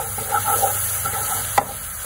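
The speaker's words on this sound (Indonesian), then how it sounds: "Nah, ini Anda aduk-aduk lagi." Samosa filling with spring onion, stock powder, pepper and salt is stirred in a pan, with soft scraping strokes over a steady faint sizzle and one sharp clack of the utensil near the end.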